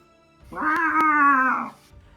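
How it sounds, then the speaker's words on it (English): A domestic cat in another room lets out one long, drawn-out yowling scream, rising and holding for over a second before fading, with two sharp clicks during it. "I can hear my cat screaming for me in the other room."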